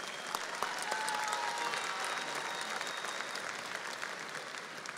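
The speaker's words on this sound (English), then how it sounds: "Let us honor these graduates with a big round of applause" An audience at a university commencement applauds the graduates, a steady wash of clapping that is fairly distant and quiet, continuous across the whole stretch.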